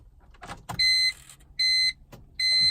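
A failing BMW E46 instrument cluster gauge makes three bursts of mechanical whirring grinding with a steady high tone, each about a third of a second, separated by short quiet gaps with faint clicks.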